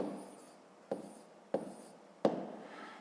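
Pen scratching on paper while math exercise answers are written, close and soft, with a few short strokes and small taps marking separate numbers.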